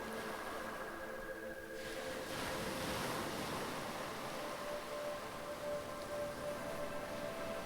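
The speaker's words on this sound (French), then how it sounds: "Voyez comme les vagues prennent le temps de se succéder les unes aux" Ocean waves break and wash steadily onto a seaside beach, a continuous broad roar of surf with gentle swells in intensity, close and fairly loud, with wind noise and no voices.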